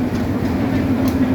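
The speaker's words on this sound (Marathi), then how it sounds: "इथं बोरी ट्रेन येते आहे, आपण चक्क स्टेशनवरती पोहोचलो आहे" A local train rolls into a railway station in Maharashtra, a loud, steady rumble and hum of rail cars close by that continues throughout.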